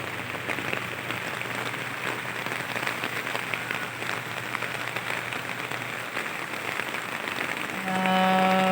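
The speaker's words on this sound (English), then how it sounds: "Heavy raining." Heavy rain pours down steadily outdoors on a warm day near an office building, a dense continuous hiss of drops pattering on surfaces, close and loud throughout with no voices.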